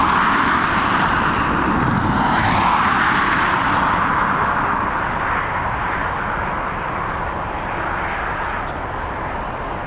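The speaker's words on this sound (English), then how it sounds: "EI563 coming in from Barcelona, this Airbus A330." An Airbus A330 arriving from Barcelona lands at Dublin Airport, a loud broad jet roar that rises to a peak and then slowly eases, continuous with no pauses.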